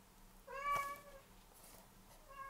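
A cat meows twice, once in a drawn-out call and again briefly at the end, both faint against a quiet indoor room.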